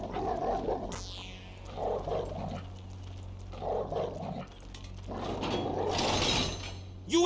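A dog barks and growls repeatedly in Grand Theft Auto V story mode, loud bursts spaced through the scene over steady game background noise, with a sharp crash near the end.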